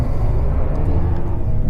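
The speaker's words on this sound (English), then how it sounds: "the whole bus is empty" Low rumble of an empty coach bus on the road from Helsinki toward St. Petersburg, a steady droning cabin hum with faint soft ticks and rattles, no talking.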